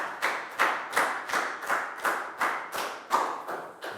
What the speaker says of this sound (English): High five and a big round of applause for Lakgau